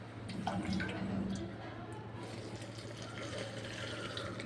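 Water is poured into gram flour to make khaman dhokla batter, a faint, brief trickle over a low steady hum.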